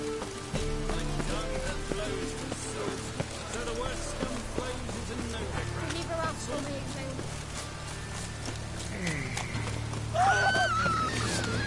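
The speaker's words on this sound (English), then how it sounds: "And it's raining again." Steady rain falls across a scene in the video game Witcher 3, a continuous patter under game music and effects, with a horse's hooves and a whinny heard and a person talking over it.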